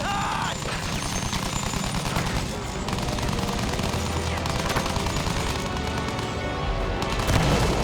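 Constant gunfire and explosions from the World War I shooter game Battlefield 1, dense overlapping rifle and machine-gun bursts with booms, loud and unbroken throughout.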